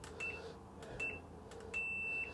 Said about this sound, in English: That long beep, that means it's off.